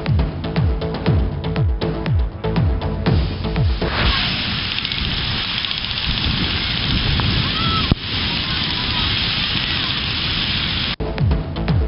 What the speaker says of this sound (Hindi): कोहे सुलेमान पर मौसलाधार बारिश